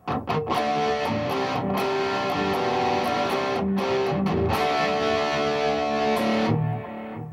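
Distorted electric guitar playing steadily with an echoing delay trail, sustained chords and notes ringing out before stopping near the end.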